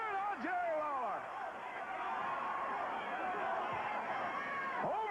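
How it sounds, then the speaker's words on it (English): Wrestling fans in an arena cheering for Jerry Lawler during a long bout, a sustained crowd roar with rising shouts and whistles, heard at a distance. "Fans cheering on Jerry Lawler."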